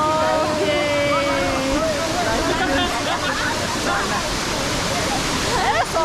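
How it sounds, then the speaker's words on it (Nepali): Bahubali waterfall near Sankhu rushes and splashes steadily at close range, a loud continuous roar with people talking and calling out over it. "हामी बाहुबली झरनामा छौँ"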